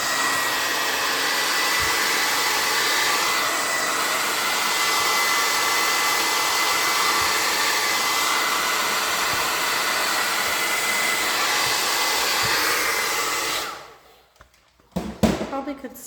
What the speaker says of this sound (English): let me just give it a quick blow dry here.